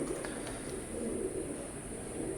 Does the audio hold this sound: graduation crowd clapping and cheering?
no